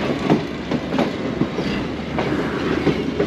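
Green Line Express passenger train running on the rails near a junction, heard from on board as a loud, steady rumble with rhythmic clickety-clack wheel beats repeating throughout.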